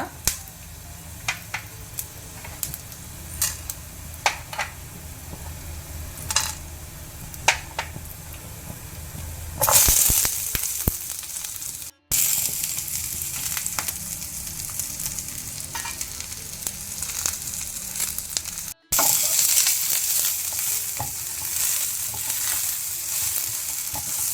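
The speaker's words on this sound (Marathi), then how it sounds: "ताका हो सांबार घालून आमी तिके भाजून काडया" Spices roasting in coconut oil in a pan, starting with sporadic crackles and pops, then a loud, dense, continuous sizzle that briefly cuts out twice, close and steady.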